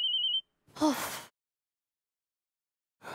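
A mobile phone ringtone gives a quick run of high electronic beeps, then cuts off abruptly. A short breathy sound follows, then silence, and another noise begins near the end.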